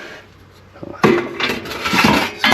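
In a VW T4 camper's kitchen, a small handleless grill pan is handled with clattering metallic knocks and scraping rubs, loud and close, under a person talking.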